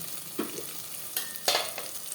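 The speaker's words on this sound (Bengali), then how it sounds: "এখন আমি মাংসটা দিয়ে দিব" Mutton pieces going into hot spiced oil in a pan, giving a steady close sizzle with a few louder bursts of stirring and scraping, no voices.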